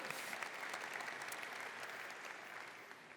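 A crowd applauds for a few seconds, the clapping dense and even before gradually fading.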